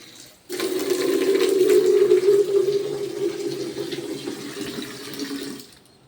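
Cold water splashes steadily onto a person's lower back, a continuous close pouring rush lasting several seconds and tapering off at the end, with no talking.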